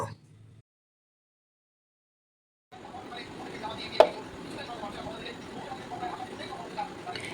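After a brief silence, a spiced egg batter with chili flakes, garam masala and coriander is stirred in a bowl: steady close scraping and swishing, with one sharp knock against the bowl.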